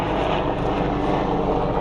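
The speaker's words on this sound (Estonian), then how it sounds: "Siin raes lendavad kogu aeg need kopterid." Helicopters pass over a golf course, a steady, loud, close engine and rotor drone filling the whole short stretch with no talk.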